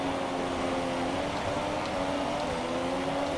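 Revs build as a race car in a racing video game pulls away from the grid at Spa, a steady, fairly loud, sustained engine drone with no speech.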